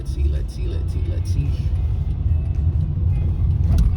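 Dense road traffic jammed in Calgary on Boxing Day, trucks among the cars, a steady low engine rumble and road noise heard from inside a vehicle, with people talking over it.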